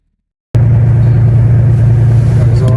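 A loaded cargo truck drives off after loading, its engine starting abruptly into a loud, steady low rumble that stays close and constant.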